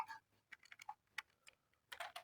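Keys clatter on a computer keyboard while text is entered into a web page, in short irregular bursts of clicks with pauses between, close and fairly quiet, with no talking.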